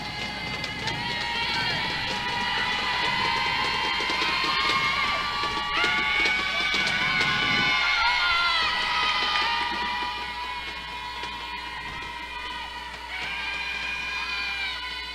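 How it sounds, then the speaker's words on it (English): A home crowd at a Chapin varsity girls' basketball game against Mid-Carolina roars and cheers loudly during a free throw, a dense, sustained wall of shouting voices that eases slightly partway through. "you see the Chapin crowd here getting very loud as Hall was shooting shooting her first free throw"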